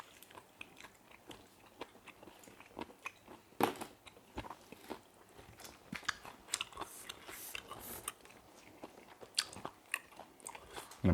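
Crunchy bites and chewing while eating very spicy instant Mama noodles with grilled meat, a dense run of sharp, close crackling crunches at an irregular rhythm with no talking.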